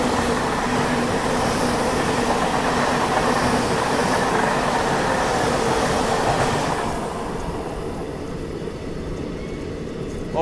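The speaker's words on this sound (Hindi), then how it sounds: "अभी ये है दिल्ली की लोकल ट्रेन," A Delhi local train bound for Ballabhgarh rumbles past nearby, a loud steady roar of wheels and carriages that drops off sharply as the last cars clear, leaving a lower rolling tail.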